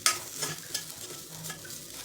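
Ground coconut, ginger and coriander paste being sautéed in a pan, with soft sizzling and scraping stirs in a few uneven bursts, close and fairly quiet, no voices.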